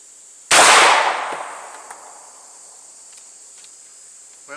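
A single sharp, loud blast from a Hatfield 20 gauge SAS shotgun fired outdoors, followed by a long fading echo and faint background insects.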